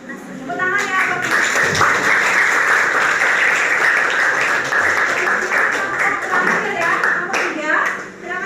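A classroom of students claps after a group presentation on volcanism, loud close applause with distinct individual claps that swells, holds for several seconds, then thins out with a voice or two murmuring underneath.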